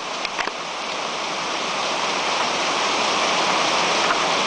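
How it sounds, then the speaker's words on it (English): A tropical downpour of heavy rain roars steadily on a Thursday morning, a dense, constant wash of pouring water close by with no let-up, runoff spilling from a small overflow pipe blending into the hiss. "this is one of our tropical downpours."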